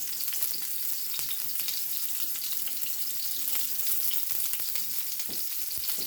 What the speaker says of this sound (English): I'm gonna let that oil get hot a little bit, and we're just gonna add the onions in there.